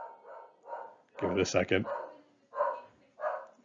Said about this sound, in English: my dog is going a little crazy here